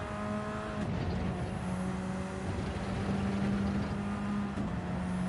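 A race car engine in a video game revs hard through a chicane, droning pitch climbing and dipping with gear changes, moderately loud and steady throughout.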